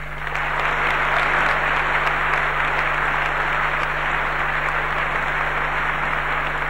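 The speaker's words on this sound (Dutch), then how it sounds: "ik wil in eerste instantie voor hun graag een heel hartelijk applaus" Sustained, dense applause from a concert audience for the leaders of the Jostiband and Harmonie Orchestra Utrecht, loud and even throughout with a steady low hum underneath.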